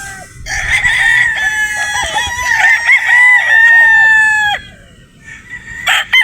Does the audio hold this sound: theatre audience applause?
no